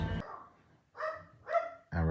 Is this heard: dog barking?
yes